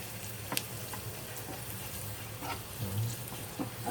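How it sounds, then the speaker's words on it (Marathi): Tempering of spices sizzles softly in hot oil in a pan just off the gas, a steady crackle with faint scraping as it is stirred, close and fairly quiet. "थोडंसं फोडणी ही हलवूया आपण."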